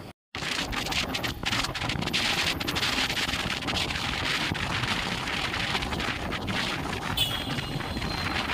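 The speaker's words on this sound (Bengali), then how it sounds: "তোমরা তো আওয়াজ বুঝতেই পারছো, এত হাওয়া, এত হাওয়ার এত জোরে বাইকটা আমার বড় চালাচ্ছে।" Strong wind buffeting the microphone while riding a motorbike, a loud, rough, continuous roar after a brief silence at the start.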